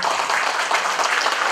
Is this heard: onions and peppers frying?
no